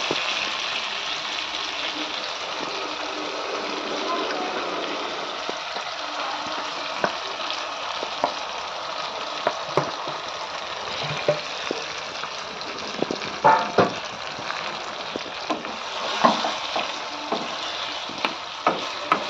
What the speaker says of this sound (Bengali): এবার আমি ম্যারিনেট করা মাংসটা এর মধ্যে দিয়ে দেবো